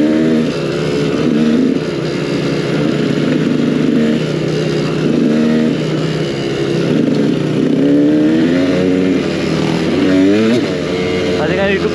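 A KTM EXC 200 two-stroke dirt bike being ridden, its engine loud and continuous with rising and falling revs as the rider shifts through the throttle, with wind noise and a voice briefly heard.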